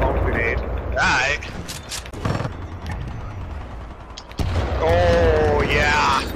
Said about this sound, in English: Oh shit, oh shit, that's my grenade.